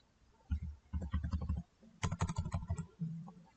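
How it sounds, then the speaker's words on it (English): Dashes tapped on a computer keyboard come in two quick bursts of close, crisp key clicks with a short pause between them. A brief faint tone follows at the end. "type 3 times dash like this"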